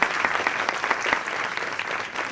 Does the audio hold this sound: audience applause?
yes